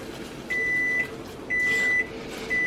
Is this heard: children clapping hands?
no